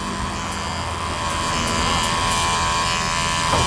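An electric hair trimmer runs steadily throughout, a continuous close buzzing hum that grows slightly louder partway through, cutting hair in stepped lengths with a 0.5 comb guard, with no talk over it.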